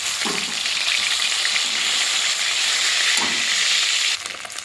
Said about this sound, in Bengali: এবারে মাছগুলো দিয়ে ভেজে নেব।